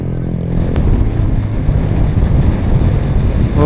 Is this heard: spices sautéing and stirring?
no